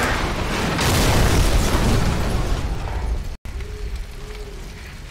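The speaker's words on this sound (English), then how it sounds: "Incoming missile! Hang on!" An incoming missile explodes in Call of Duty Modern Warfare, a loud, sustained roaring blast that swells and rumbles for several seconds, cuts out briefly, then settles into a lower hum with no speech.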